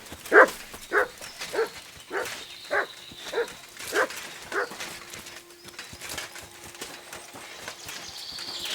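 A dog barks in a short series of sharp, spaced yips and whimpers in the medieval world of the game Kingdom Come: Deliverance II, several close calls over a faint steady hum, with no one speaking.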